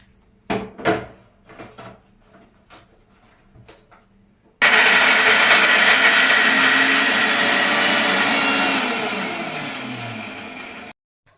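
Mixer grinder jar grinding fresh coconut for coconut payasam, a loud, steady whirring roar that starts abruptly after a few quiet clicks and knocks, runs for several seconds, then slowly fades out.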